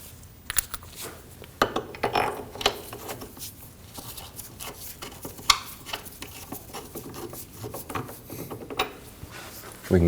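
Ratchet snugging up the rearward front control arm bolts on a 2003-2006 Subaru Baja, quick clicking bursts close by over ten seconds, mixed with metallic clinks and handling noise.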